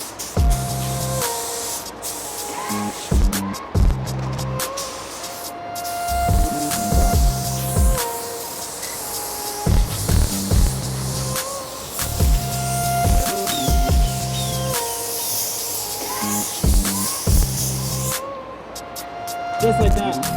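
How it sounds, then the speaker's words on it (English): A spray gun paints a car bumper on an SRT, giving a steady, close hiss that runs through the whole stretch with brief pauses and shifts, while voices talk intermittently over it. "we're gonna spray this in the bumper"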